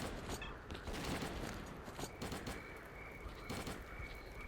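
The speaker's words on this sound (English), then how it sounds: "Ah, I hear gunfire." Bursts of rapid video game gunfire in S.T.A.L.K.E.R. Clear Sky crackle continuously across a noisy, dense soundscape, with distant shots layered over a steady hiss.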